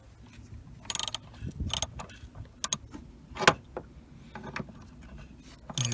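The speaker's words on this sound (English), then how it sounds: "then get your socket back out and just tighten that up clockwise" Socket wrench tightening a battery terminal bolt on a VW T5 van: a series of sharp metallic clicks and ratcheting ticks at irregular intervals, close and fairly clear with no talking.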